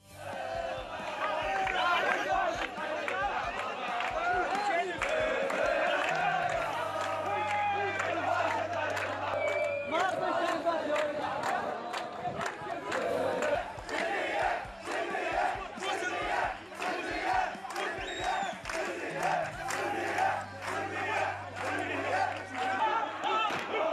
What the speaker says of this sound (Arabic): والمتظاهرون يرددون هتافات ضد الأحزاب الحاكمة